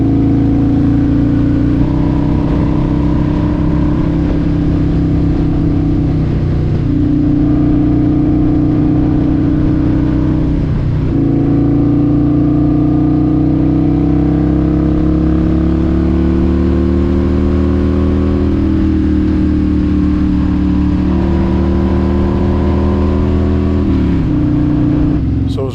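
A Harley-Davidson motorcycle engine drones loudly and continuously on a highway, its pitch climbing and dropping as the rider works through the gears, with brief dips at each shift and no talk.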